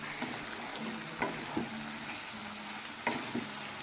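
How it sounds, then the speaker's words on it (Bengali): Chicken coated in salt and ginger-garlic paste is stirred in a hot pan for coriander chicken, a steady sizzle broken by a few sharp scrapes and knocks of the spoon, close up with no talking. "আদা রসুন বাটাটা দেওয়ার পর আমি খুব সুন্দর করে নাড়াচাড়া করে নেব।"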